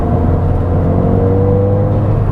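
A 2017 Ford Fiesta ST with a 1.6-litre turbo engine hums loudly and steadily while driving, a constant close-up engine drone with road rumble underneath.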